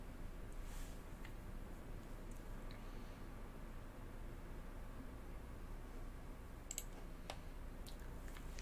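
A few faint, sharp mouse clicks on a computer, sparse and isolated against a steady low hiss, with a small cluster near the end.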